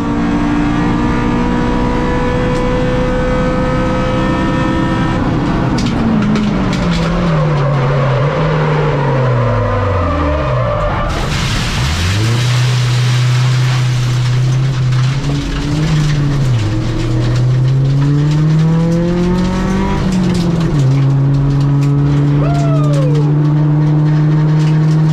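A rental car on track at Brands Hatch revs hard through the gears, then the rear brakes lock into Paddock Hill and it spins, engine note dipping and swooping before climbing again, loud and close throughout.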